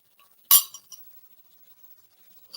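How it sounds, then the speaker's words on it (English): A spoon strikes a bowl while cutting oatmeal: one sharp clink, followed by two smaller taps and a faint final tap after a quiet pause, all close up with no talking. "let alone cut it up with my spoon that I have here"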